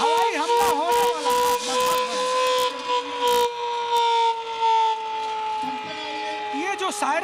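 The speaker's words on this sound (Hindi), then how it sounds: "ये जो सायरन अभी धीमे तेज आवाज में बजा, इसका मतलब है कि हवाई हमला होने वाला है" An air raid warning siren wails, rising and falling in long sustained tones, loud and steady, during a mock drill at a school, with a shouting voice at the start and end over mechanical clatter.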